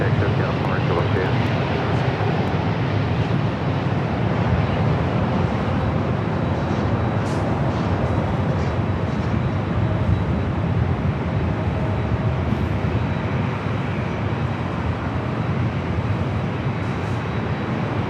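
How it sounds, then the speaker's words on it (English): Jet airliner engine roar at LAX airport, an Airbus A380 passing on a July 4th evening, a steady broadband rumble that holds loud and unbroken throughout, with radio chatter faintly mixed underneath. "This is Flight 453 heading back to Munich on this A380 Super."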